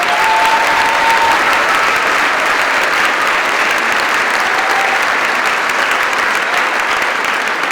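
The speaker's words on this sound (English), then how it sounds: "Let's show our appreciation with a round of applause for that" Sustained audience applause fills a school auditorium after a spring high school band concert, a dense, steady wash of many hands clapping at even loudness throughout, with no voices rising above it.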